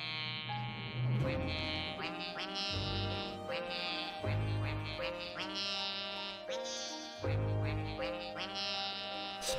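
Rhythmic duck quacks set to music in a rhythm video game trailer, the quacking repeating on the beat under a loud, continuous musical backing.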